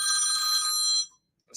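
A nearby telephone gives one loud, bright electronic ring burst of about a second, then cuts off into silence.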